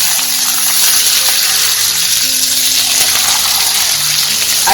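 Onions and curry leaves frying in hot oil with cumin, a loud, close, continuous hiss and crackle that stays steady throughout with no talk.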